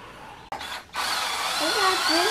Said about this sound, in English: we're going to drill one hole right there